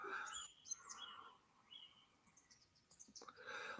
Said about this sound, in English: What, can you hear the birds in the background?